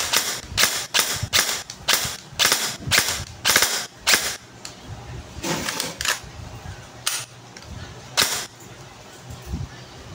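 An FJS M4 Jinboo Edition toy rifle fires a series of sharp, snappy blowback shots, single and in quick pairs, with irregular gaps and faint background noise between them.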